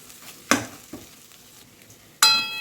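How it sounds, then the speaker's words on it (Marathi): Ground mung beans and green chillies fry in a pan, a few distinct scraping stirs and metallic knocks against a faint sizzle, short and close. "मी दोन ते तीन मिनिट मस्त मूग आणि मिरची पण याच्यासोबत फ्राय करून घेतलेली आहे"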